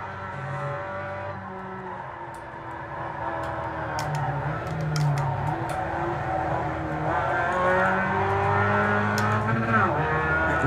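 Mazda MX-5 Cup race car engine on the Phoenix International Raceway circuit in iRacing, a steady harmonic drone rising and falling with throttle and shifts, with faint tire noise, continuous and close throughout.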